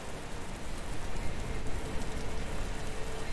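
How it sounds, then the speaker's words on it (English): Steady rain patters down in the survival city-builder game Patron, a dense continuous hiss at even loudness, with no voices. "It's raining."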